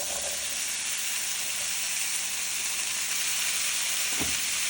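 Potatoes, carrots and celery sizzle in oil in a pan for shrimp soup, a steady loud hiss with one brief clunk near the end and no talking.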